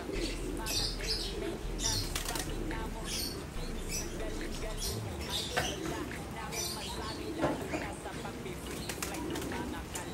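Giant pigeons flap their wings in repeated bursts close by, with faint cooing and rustling mixed in and a person talking briefly in the background.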